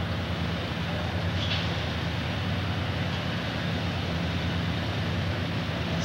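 A CSX freight train rolls past at Fostoria, Ohio, a loud, steady broadband rumble and rail roar that holds at constant level through the whole stretch, with no voices.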